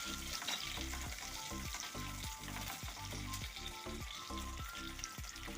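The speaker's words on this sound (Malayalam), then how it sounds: "ഒരു 2 കറിവേപ്പിലയും കൂടെ ഇട്ട് ഇളക്കാം." Curry leaves and slit green chillies fry in oil for a fish curry, a steady loud sizzle broken by rhythmic scraping strokes of a spoon stirring the pan, close and continuous with no talk.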